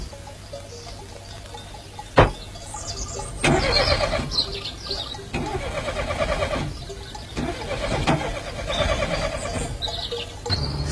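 A Moskvich car engine being cranked and coaxed to start, with repeated rough, stuttering bursts and whining turns that rise and fall over about eleven seconds, loud and close.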